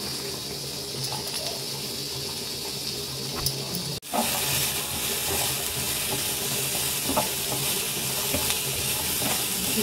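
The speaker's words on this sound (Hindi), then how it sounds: "इसको ना थोड़ा सा फ्राई करूँगी" Vegetables frying in oil in a home kitchen pan, a loud, dense sizzle that briefly drops out and then resumes stronger, with faint stirring clicks and no talking.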